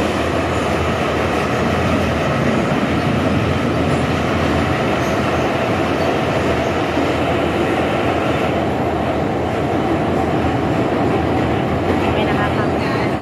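Loud continuous rumble and rattle from inside a moving passenger train in Georgia, a dense steady roar of wheels and carriage with faint murmurs of people talking beneath it.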